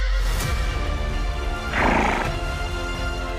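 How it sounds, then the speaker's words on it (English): Horses gallop with hoof clip-clop throughout, and a loud neigh rises in the middle of a dense, close sound-effect mix. "The horses' hooves pounded the earth"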